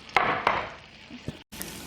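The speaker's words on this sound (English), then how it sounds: "As you can hear, it is already sizzling away." Garlic and chili fry in hot oil, giving a soft continuous sizzle broken by a few sharp clicks and taps of a utensil against the pan, close up.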